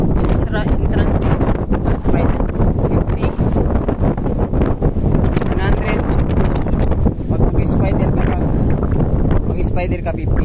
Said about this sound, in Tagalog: Grabe hangin, no?